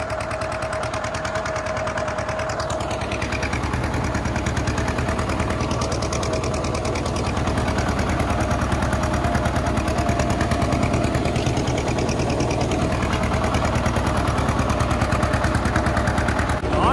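A 730 diesel tractor engine runs steadily in a field, a loud, continuous rapid mechanical chugging that holds for the whole stretch with no talking over it.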